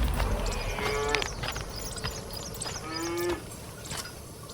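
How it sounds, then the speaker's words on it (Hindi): A cow moos loudly twice, long drawn-out bellows separated by a pause, close and prominent over a busy background of rustling and clatter, with no talking. "गाय जोर जोर से आवाज कर रही होती है"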